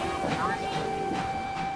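A train pulls out of King's Cross station with a steady rumble and clatter, a sustained tonal hum riding over it while a crowd's voices murmur underneath.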